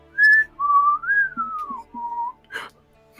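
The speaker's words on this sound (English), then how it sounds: "And she starts whistling." A woman whistles a short, wavering melodic tune of several sliding notes, close and clear, followed by a couple of soft knocks or rustles.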